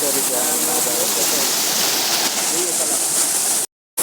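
A nearby stream at a park rushes with a constant broadband wash of water, loud and close, while people talk over it; the sound cuts out abruptly near the end.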